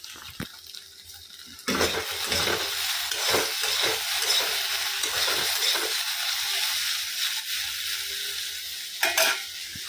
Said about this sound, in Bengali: ভেন্ডি শুধু ভাজা করছি